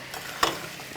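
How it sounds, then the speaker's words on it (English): Chicken fillet cooking with sour milk in a pan makes a faint, steady sizzle, broken by one brief, sharper crackle near the middle. "This is as it's sizzling."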